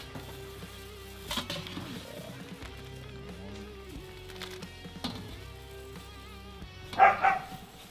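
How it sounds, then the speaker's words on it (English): A dog barks a few times in the distance over a steady mechanical hum, with a louder burst of barking near the end. "And you hear our friendly brew dogs in the background."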